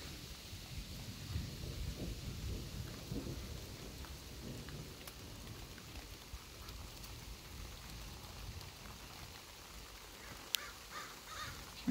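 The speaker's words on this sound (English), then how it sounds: "Because we're still getting rain." Light rain falls steadily on a porch garden, a soft continuous patter with occasional low rumbles in the distance and no voices.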